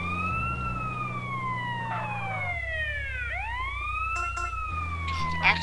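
Wailing ambulance siren in GTA San Andreas, rising and falling with a pitch sweep as the vehicle passes, over a steady low engine drone and road rumble, with brief bursts of other game noise.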